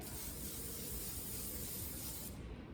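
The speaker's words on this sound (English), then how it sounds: "Obviously, you are going to want to spray it." Cooking spray hisses steadily onto a skillet before pumpkin pancakes are made, a close continuous aerosol spray that cuts off near the end.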